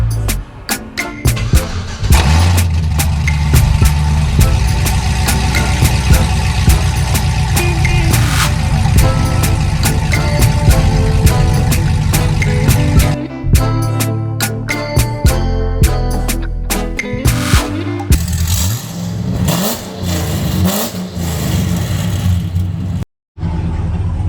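A loud, raw Cadillac CTS-V exhaust with no muffler rumbles and idles with sharp popping and brief revs, harsh and close throughout.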